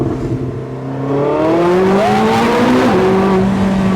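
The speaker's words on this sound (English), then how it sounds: "Let's give it some throttle here under this bridge and just enjoy this moment here" A Porsche 918 Spyder, with its hybrid system and V8, accelerates under a bridge. The engine note climbs loud and close through rising revs, with a brief shift dip before pulling higher again, echoing off the structure.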